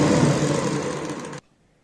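A sewing machine runs a steady stitching hum along a fabric strip for a kurti frill, close and continuous, then cuts off abruptly into near silence.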